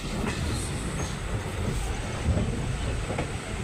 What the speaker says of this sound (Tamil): ஸோ இந்த ட்ரெயினை பொறுத்த வரைக்கும் பேசஞ்சர்ஸ் ட்ரெயின் தான்